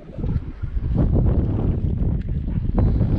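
Gusty wind buffets the microphone during power-kiting on inline skates outdoors. It is a loud, low rumbling roar that surges and dips throughout, with no speech.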